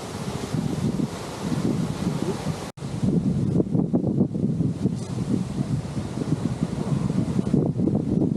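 Wind gusts buffet the microphone at a car-camping beach campsite in Lobo, Batangas, with a steady broadband roar and rustle, briefly cutting out before resuming loud and close.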